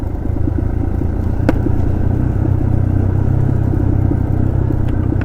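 A Yamaha RM 250 motorcycle carrying two riders gives a loud, steady engine drone with a rough, low rumble that holds throughout the ride.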